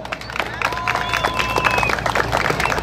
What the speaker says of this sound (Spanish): ¡Denle el aplauso!